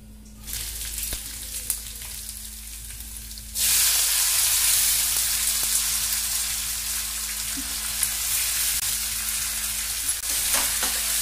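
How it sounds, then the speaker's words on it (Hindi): Onions fry in a pan on a home stove, starting with a faint hiss and then a loud, steady sizzle once they hit the hot oil, with occasional stirring clicks and no talk. "अभी ओनियन को फ्राई कर रही हूँ"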